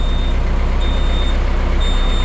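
Loud, steady engine rumbling of a DTZ 5404K tractor up close as it is given throttle, with a thin high beeping tone sounding on and off over the drone.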